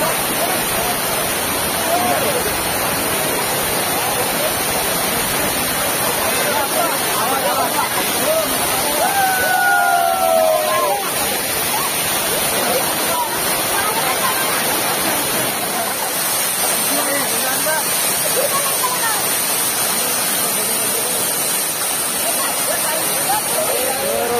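A roadside waterfall in Konkan roars as a steady broadband rush, and a weekend crowd chatters and calls out over the falling water.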